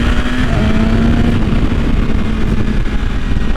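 A 2021 BMW S1000RR M motorcycle engine pulling hard, a loud, steady, close-up drone with a sustained high tone through most of the run and no voices.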